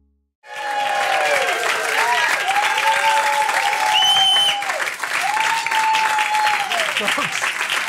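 Studio audience applauding and cheering at a Jewish-themed variety show taping, a dense sustained roar of clapping with whoops and whistles rising over about seven seconds, with faint voices mixed in.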